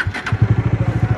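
A motorcycle engine idles close by with a fast, even putter of exhaust pulses, steady and fairly loud.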